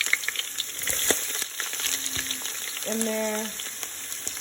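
Onion sizzling as it hits hot oil in a pan while fried spinach with turkey is being cooked, a soft steady crackle under a brief spoken remark.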